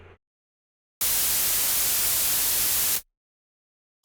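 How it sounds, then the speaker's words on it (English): A white noise riser sample for music production plays as a loud, bright, full-spectrum hiss lasting about two seconds, starting and stopping abruptly, with brief bursts at either edge and silence between. "I'm just going to take this white noise riser"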